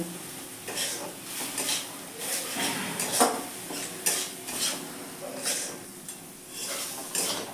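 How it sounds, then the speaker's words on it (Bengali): Spice paste with turmeric and salt is stir-fried in a pan for a Bengali prawn and banana-flower dish, a sizzle under rhythmic, repeated scraping and clinking of a spatula against the metal. "এবার আমি মশলাটা ভালো করে কষিয়ে নেব"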